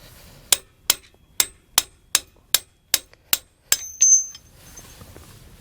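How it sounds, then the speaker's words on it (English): Metal-on-metal hammer strikes drive a tool extension against a stuck tow bar part on a 2020 Jeep Gladiator: nine sharp, evenly spaced ringing blows, loud and close, followed by a brief metallic scrape. "we're going to need to take some sort of tool, such as an extension, and use it so we can hammer it the rest of the way out"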